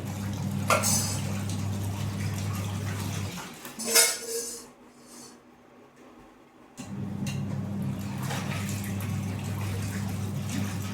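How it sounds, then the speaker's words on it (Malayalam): Dishes and pots are washed at home, with metal clinks and clatters over a steady background hum that drops out briefly midway, and no talking. "ഓ കൊറേ പാത്രം കഴുകാനുണ്ട് അല്ലേ?"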